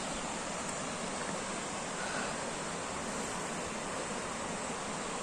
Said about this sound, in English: lovely waterfall to finish on